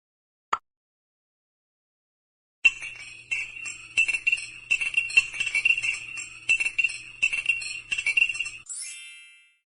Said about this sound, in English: Stir the vinegar well till it becomes colored.